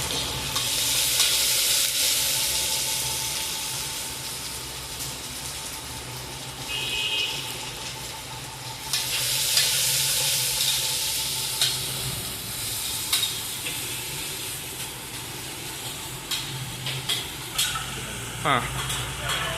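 Ginger sautéed in a pan while cooking vegetable mutton biryani, a loud continuous sizzle with frequent spatula scrapes and clinks, a brief quieter stretch midway.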